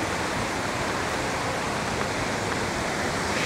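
Waterfall at the Atlantis lagoon on Paradise Island, Nassau, Bahamas, pouring as a dense, constant rushing hiss close by, steady and unbroken with no voices.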